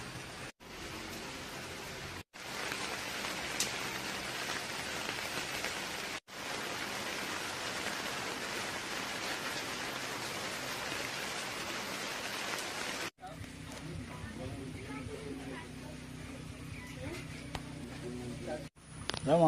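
Heavy rain falls in a steady, dense hiss, broken by a few brief cuts, then continues more softly with a low background hum near the end.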